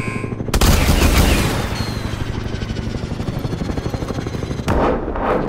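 Loud, sustained automatic gunfire from the video game Call of Duty: Advanced Warfare, in rapid repeated bursts with heavy blasts at the start and near the end, and no talking over it.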